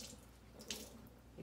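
Water runs from a faucet into a sink to wet a paper towel, a faint steady splashing stream with a brief brighter splash in the middle.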